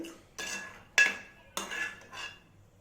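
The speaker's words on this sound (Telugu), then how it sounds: "నేను ఎలా మెత్తగా చేస్తున్నాను అలా మెత్తగా చేసుకుంటే సరిపోద్దండి" A small metal ladle mashes cooked lentils in a pot for Bhimavaram-style pappu charu, four distinct scraping clinks in a slow, steady rhythm, close and quiet.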